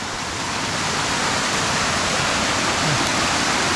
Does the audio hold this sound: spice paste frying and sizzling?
no